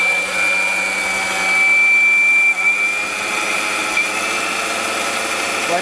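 A Japanese-brand blender grinds dry cumin seeds, giving a steady, loud motor whine with a high tonal hum that holds for several seconds, with a brief dip in the middle.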